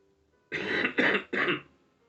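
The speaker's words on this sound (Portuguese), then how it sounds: "minha tosse tá horrível" Three quick, raspy coughs in close succession, close and fairly loud, with silence before and after.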